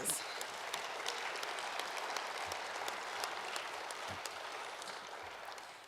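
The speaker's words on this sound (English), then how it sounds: "Let's give our awardees another round of applause" A room full of people applauds awardees at a historic preservation awards ceremony, steady sustained clapping throughout with a few sharper close claps standing out.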